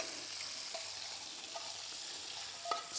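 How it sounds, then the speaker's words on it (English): Perfectly cooked chicken stirred through a hot pan off the heat for chicken carbonara, with soft sizzling and a few faint scrapes and clinks of the utensil, quiet and close. "throw in our chicken, just perfectly cooked. Give it a stir"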